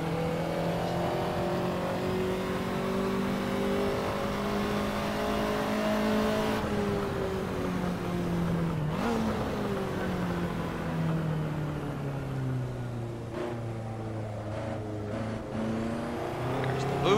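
A Ferrari 288 GTO engine in the Assetto Corsa racing game drones loudly and steadily, its pitch climbing through the gears with a couple of abrupt shift dips, heard alone with no talk.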